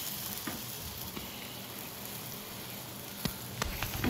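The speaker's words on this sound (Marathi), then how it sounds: "आता असं आपल्याला हा खरपूस पराठा भाजून घ्यायचा आहे व्यवस्थित" A dill-leaf paratha roasts with oil on a hot griddle, giving a steady close sizzle throughout with a few small clicks and taps near the end, and no voices.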